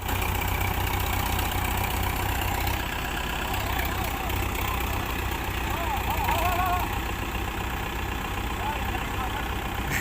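A Kubota tractor stuck in mud, its engine running loud and continuous with a rough idling chug throughout, close by and unbroken for the whole stretch.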